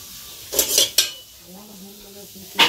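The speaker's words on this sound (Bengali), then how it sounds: "খুন্তিটা নিয়ে একটুখানি ঘুটিয়ে দিই।" A metal spatula scrapes and knocks against a pan while stirring potatoes at home, giving a few close clanks and scrapes with a soft background hum.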